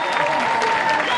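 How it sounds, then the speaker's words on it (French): Audience applause at a live comedy-clash stage show, a dense steady wash of clapping from a crowd, loud and continuous throughout with no pauses. "Je vous prie d'applaudir pour Sai Sai et Sobe qui vont regagner le vestiaire."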